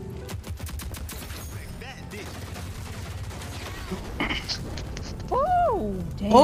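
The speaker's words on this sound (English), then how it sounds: "I am in the middle of a shootout with Dima" Rapid gunfire and explosive bursts crackle through a shootout in the arena shooter Splitgate, dense and continuous, with rising whooshing weapon effects near the end.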